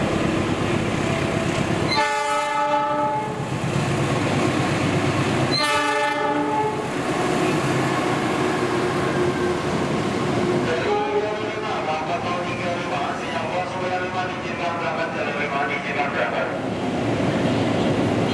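A train rumbles along the tracks at a station with a steady roar, two loud horn blasts near the start and rattling wheel clatter building later.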